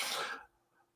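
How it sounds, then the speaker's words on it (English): A single short, harsh cough close to the listener, followed by quiet. "I can't wait for this cough to go away"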